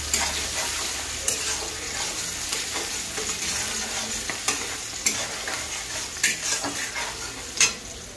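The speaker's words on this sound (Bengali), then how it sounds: "পেঁয়াজটাকে আমি একটু লাল লাল করে ভেজে নেব" Steady sizzling of chopped onions frying in a pan, with occasional stirring scrapes and clinks throughout, close and fairly loud, no voices.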